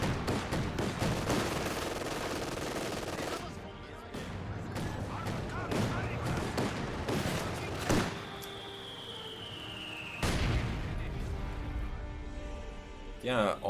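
Bursts of gunfire and heavy weapon thumps from a Company of Heroes 2 match, repeated shots and impacts under steady commentator talk.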